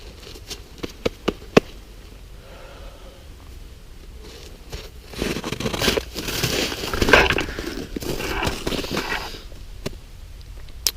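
Kindling lit by a flint-and-steel spark catches and crackles: faint scattered ticks at first, swelling into a denser, rustling crackle midway before thinning out again, close and quiet with no talk.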